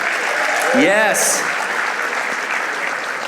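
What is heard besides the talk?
comedy show audience applause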